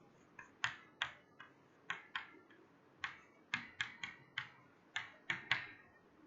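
Someone typing code on a computer keyboard, a run of crisp, close key clicks in irregular bursts, some rapid double taps, with quiet room tone between strokes and no talking.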